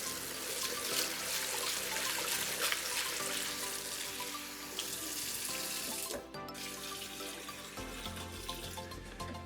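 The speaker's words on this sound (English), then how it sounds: "we're gonna turn on the water and start washing the rice" Water runs steadily from a kitchen tap into a pot as rice is washed, a continuous close splashing rush that shifts in tone as the water level and hands move.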